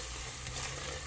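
Spices (salt, red chilli, turmeric) frying in a pot for a curry, a steady close, faint sizzle with light crackle throughout, no voices.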